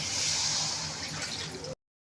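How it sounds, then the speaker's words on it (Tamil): Water poured into a pot of browned chicken and masala for a Tamil-style chicken curry, a steady splashing, trickling fill lasting under two seconds, close and fairly loud, then cutting off abruptly. "இப்போ நம்ம தண்ணி தேவையான அளவுக்கு சேர்த்துக்கலாம்."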